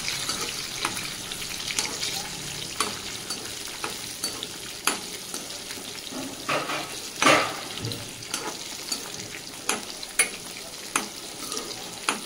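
Green chillies frying in a pan, a soft, steady sizzle broken by repeated scraping and clinking as they are stirred, close and without speech.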